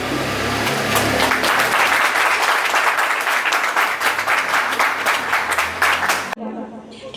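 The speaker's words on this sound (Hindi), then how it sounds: "जब आप जैसे लोग तालियां बजाते हैं" Audience at a foundation ceremony breaks into dense, sustained applause that fills the room for several seconds before cutting off abruptly near the end.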